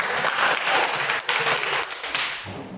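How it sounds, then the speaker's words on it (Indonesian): A class of seventh-grade students clapping for a classmate's answer, loud and close, a brisk burst of scattered hand claps that thins out toward the end. "Tepuk tangan dulu untuk jawabannya."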